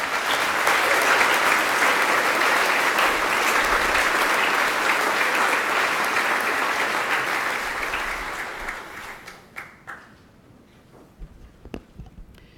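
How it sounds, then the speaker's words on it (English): Sustained applause from the convocation audience inside Johnson Chapel at Amherst College, steady and dense, then thinning into a few scattered claps before fading out. "A round of applause for her."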